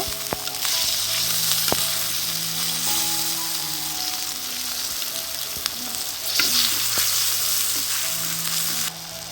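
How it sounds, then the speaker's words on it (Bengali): Loud, steady sizzling of frying food in a pan while water and ground spices are added, with occasional clinks and stirring scrapes, close up and without talk. "আমার ভাজা হয়ে গিয়েছে এখন সামান্য একটু পানি দিয়ে গুঁড়া মশলাগুলো দিয়ে দিব"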